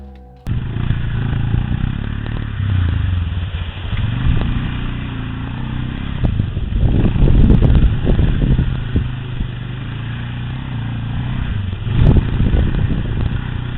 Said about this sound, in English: A boy was riding his ATV through the woods, recording the adventure on his camera.